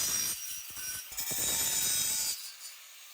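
Hand sawing of cutting lines in a metal survival stove, a few seconds of steady rasping strokes at close range that stop abruptly near the end.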